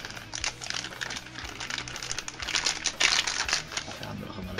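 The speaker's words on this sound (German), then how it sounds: "Dann werden wir noch mal das Zubehörset auseinanderpacken." Plastic packaging from a Hasbro Beyblade Metal Masters accessory set is torn open and handled up close, producing continuous crinkling, crackling and rustling with irregular bursts of louder crackle.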